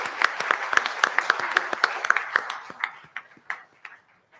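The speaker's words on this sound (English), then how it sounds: "let's give them a round of applause" A church congregation at a Sunday service claps for its leaders, a burst of dense hand claps that thins into scattered, slowing claps and fades out over a few seconds.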